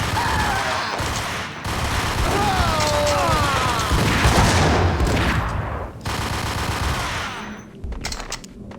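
Heavy gunfire in the video game Max Payne, a dense stretch of rapid shots and bursts layered with whooshing effects and mechanical clatter, loud and sustained before breaking off near the end.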